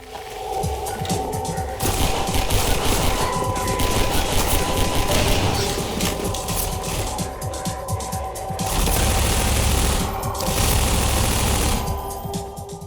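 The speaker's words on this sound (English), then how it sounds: "from small machinery noises to the boom of a shotgun" Half-Life 2 gameplay fills the stretch with rapid, dense bursts of gunfire layered over whirring sci-fi machinery, a loud, continuous barrage with no pauses and no talking.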